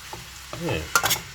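Egg fried rice stirred and sizzling in a fry pan, with short scraping strokes and bursts of hissing close up.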